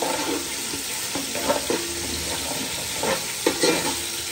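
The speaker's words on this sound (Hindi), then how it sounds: "अब हम इसमें 1 टेबलस्पून अदरक लहसुन का फ्रेश पेस्ट ऐड कर देंगे। इसको भी हम अच्छे से मिक्स कर लेंगे" Ginger garlic paste stirred into golden frying onions in a pan for chana pulao, steady sizzling with scraping stir strokes, close and moderately loud.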